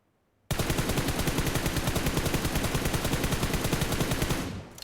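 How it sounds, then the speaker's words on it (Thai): A gun in the mobile battle royale game PUBG Mobile fires a continuous rapid burst of automatic shots, loud and close, which breaks in suddenly after a short quiet and rattles evenly for about four seconds before cutting off. "เดี๋ยวต่อไป ผมจะลองยิงแล้ว"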